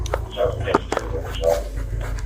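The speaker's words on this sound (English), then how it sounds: "Sniff him out, dog!" A police K-9 dog panting and sniffing rapidly at close range during a search, with people talking over it.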